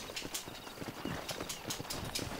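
Horse hooves clip-clopping in the video game Red Dead Redemption, a steady rhythmic walking gait of sharp hoof strikes, close and continuous with no talk.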